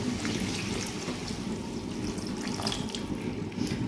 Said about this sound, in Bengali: এই পর্যায়ে আমি ওয়াটার দিয়ে নেব হাফ লিটার